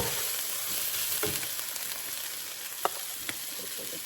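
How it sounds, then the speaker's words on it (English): Bacon sizzles in a pan, a steady close hiss of frying broken by a few sharp pops and crackles. "I'm gonna add my bacon."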